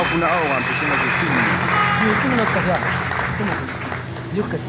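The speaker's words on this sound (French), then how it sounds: "Vous pouvez les accueillir sous vos acclamations." A conference crowd claps and cheers in sustained applause, with a French-speaking voice over it throughout before the clapping tapers slightly.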